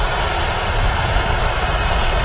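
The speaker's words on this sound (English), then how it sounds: "a lot of aircraft shifting about now here at the airport" Jet aircraft taxiing and moving around the apron at Manchester Airport, a steady loud engine roar with heavy low rumble that holds constant throughout, no voices.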